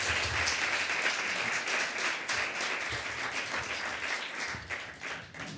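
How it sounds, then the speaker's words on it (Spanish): A lecture audience at a summer course claps for the speaker, a dense continuous round of applause with a few sharper individual claps poking through, sustained at even volume with no talk. "Muchas gracias y un aplauso al ponente."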